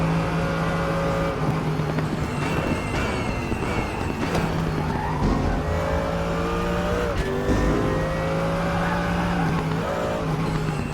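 Race car engines in the RaceRoom sim racing game drone steadily and loudly throughout, with harmonic tones rising and falling through gear changes and a brief skid-like scrub midway, no voices over it.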